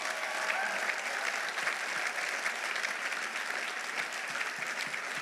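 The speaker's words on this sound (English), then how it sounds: "I want applause" Steady, sustained applause from a large commencement ceremony crowd, even and continuous throughout, with no voices rising above the clapping.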